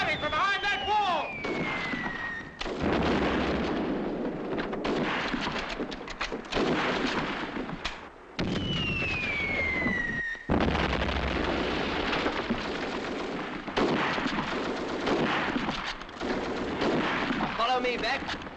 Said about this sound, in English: I think I've spotted it. Where? There! Firing from behind that wall!